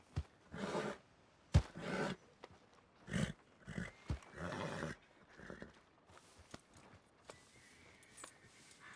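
A large horse in the Red Dead RP game snorts and whinnies in short bursts, with hoof clops and scattered small noises in a quiet scene.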